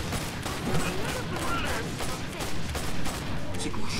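Rapid gunfire bursts from the video game Killing Floor 2 crackle densely and continuously throughout, mixed with game effects, with voices calling out over the shooting.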